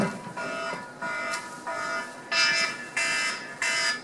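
A gas alarm signal sounds in repeated electronic beeping bursts, about six pulses in a steady on-off rhythm, loud and clear with no talking over it.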